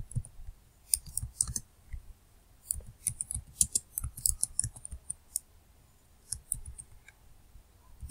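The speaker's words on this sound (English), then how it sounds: "Here I will type the question." Typing on a computer keyboard: irregular bursts of light, close clicks and taps in quick runs with short pauses, fairly quiet and with no talking.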